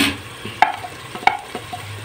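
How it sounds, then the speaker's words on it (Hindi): Spices stirred and fried into biryani masala in a pot, a soft sizzle under scraping spoon strokes with two sharp clanks of the utensil against the pot, close and without talk. "मसाले जो हैं इसकी हम अच्छी तरह बुनाई करेंगे इसमें"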